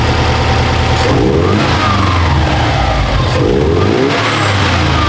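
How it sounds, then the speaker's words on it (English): Close, loud revving from a Subaru WRX with a fresh manual swap, the turbo engine rising and falling in two blips over a continuous idle, with a brief hiss like a blow-off valve. "See if you can hit the blow-off valve."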